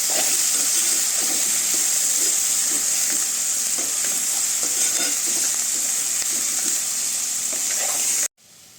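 Dried fish and onions stir in a hot pan with a steady sizzle, punctuated by repeated scraping strokes of a spoon against the pan, close and continuous until it cuts off near the end.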